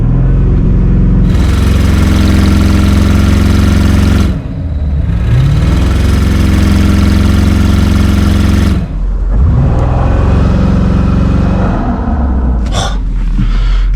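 A silencer-deleted Audi RS6 revs hard at launch control in long sustained bursts, loud and close, dropping briefly between pulls, with one short sharp burst near the end.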